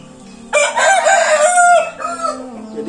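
A rooster crows loudly and close, a long strained call with a broken tail that fades into a few clucks, with a light steady background hum.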